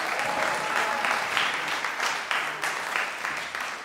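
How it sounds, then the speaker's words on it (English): Audience applause fills a jazz festival concert hall at a summer workshop combo concert night, a dense, steady wash of many hands clapping at close range throughout. "Can we give the Montclair Jazz Festival a round of applause"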